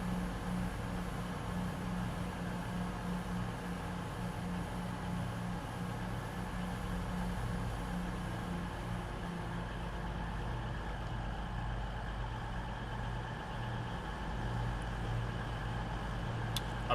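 A Class 222 diesel train gives off a low, steady engine drone, faint and unchanging for a long stretch with no clear rise or fall.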